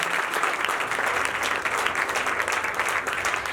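A church congregation applauds, a dense, even roar of many hands clapping throughout, loud and close with no talking over it.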